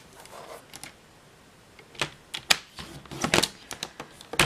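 A scoring tool runs along a pencil line on cardstock for a triangle treat box, making close, sharp scratchy clicks and strokes that come in quickening bursts, with no talking.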